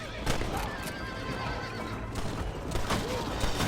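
A horse neighs loudly twice over galloping hoofbeats and a busy game soundtrack from Red Dead Redemption 2, with brief shouting voices in the mix.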